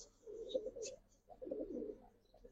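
Giribaz and silver pigeons cooing in two soft, low rounded bursts close by, with a brief higher chirp between them and a faint steady hum underneath.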